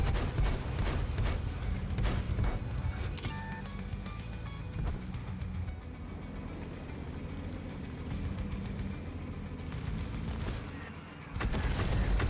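The Flakmaus tank in World of Tanks fires its gun in repeated heavy booms over a constant engine rumble and battle noise, loud and dense throughout.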